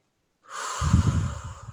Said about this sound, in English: Taking a deep breath in here.